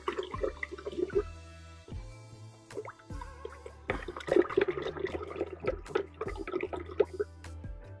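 Water trickles and drips into a fermenting vessel of mead must made with honey, a close, uneven pouring with small splashes and gurgles that comes in short bursts broken by brief pauses, with no talking.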